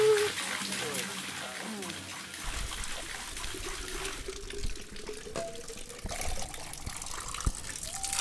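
Water runs from a central water spout pipe in a steady trickling stream, close and fairly soft. Voices talk over it throughout.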